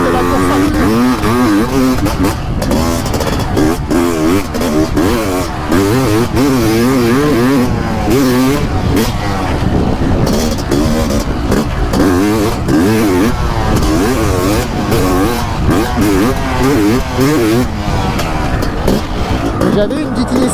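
A 500 CR motocross motorcycle pounds through big ruts. The engine is loud, close and constant, revving up and down over and over.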